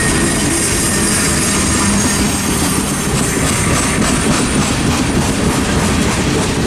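A freight train with Santa Fe boxcars rolls past near Tehachapi, loud and close, its steady roar carrying continuous clickety-clack from the wheels and a faint squeal, no voices.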